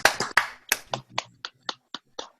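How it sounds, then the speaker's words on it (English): Scattered hand claps over an online meeting call, a handful of sharp claps from a few people: a quick cluster at first, then isolated single claps at a slowing, uneven pace, close and fairly clear. "join me in clapping for Chris"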